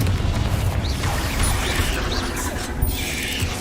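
A Confringo spell blast in Hogwarts Legacy fires with a short mechanical crack and booming burst, followed by rumbling impact noise and a few faint high whistles.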